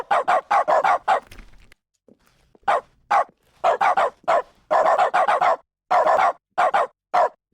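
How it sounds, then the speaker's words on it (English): A dog barks indoors in a room, letting out rapid clusters of sharp, loud barks separated by short pauses, close to the listener. "You're just gonna leave a dog in the room to die?"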